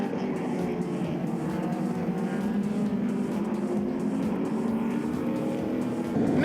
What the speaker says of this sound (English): Boyter manages to fend off the Datsun for now, and he leads Pantasis and Venter through turn 6